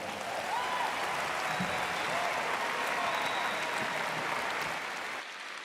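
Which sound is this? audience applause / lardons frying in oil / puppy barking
audience applause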